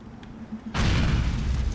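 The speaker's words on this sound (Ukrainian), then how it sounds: "А, можна спробувати вибухівку туди кинути." A loud explosive blast from GTA: The Lost and Damned erupts suddenly after a low game backdrop and rolls on as a sustained, heavy rumble to the end.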